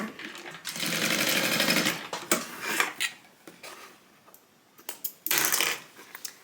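A sewing machine bastes tote bag seams open in two fast, steady whirring bursts, separated by softer handling noises.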